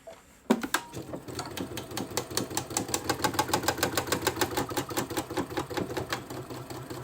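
A Baby Lock Solaris sewing machine, fitted with an embroidery needle and embroidery thread and run at reduced speed, stitches a buttonhole with a steady, rapid mechanical clatter that starts abruptly and continues evenly throughout.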